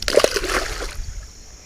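A carp released back into a muddy river makes a few quick, close splashes and a slosh in the first second, then the water goes quiet.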